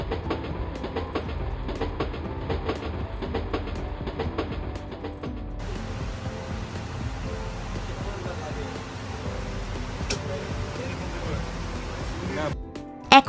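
A passenger train running from Dhaka to Chittagong rumbles along with rhythmic clickety-clack from the wheels and steady rolling noise inside the carriage, with people speaking over it.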